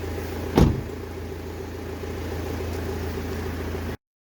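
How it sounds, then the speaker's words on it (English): Power window motor whirring steadily inside a Mitsubishi Pajero/Montero, with a short thump near the start, then cutting off abruptly into silence. "Power windows."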